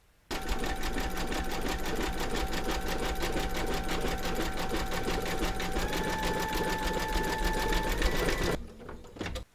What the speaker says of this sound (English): Load your thread colour for the satin stitching of the nose into your machine, and then stitch round number 18